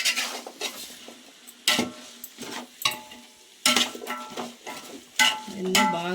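Rice mixture gets stirred in a pot with a spoon, giving irregular scraping and clanking strokes against the metal, each followed by a soft wet sizzle, with no talk.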